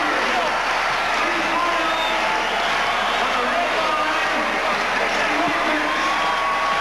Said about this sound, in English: Another look at the great crowd, the great fans of the Blast.